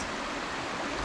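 A river flows steadily beside the Bruce Trail, a broad close rushing wash of water that stays constant and fills the short moment without any voices.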